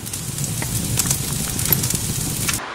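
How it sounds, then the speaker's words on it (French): A small fire with glowing embers, crackling and popping softly with scattered sharp snaps over a low steady hiss, close by and fairly quiet. "j'ai fait un petit feu"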